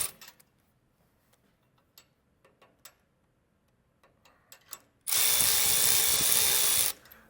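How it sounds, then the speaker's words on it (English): A hand ratchet clicks in short, irregular bursts while snugging carriage bolts on an air bag bracket of a 2024 Ford F-150, then a loud, steady power-tool whir runs for about two seconds and stops. "Now I'll alternate back and forth with our carriage bolts and just snug them down"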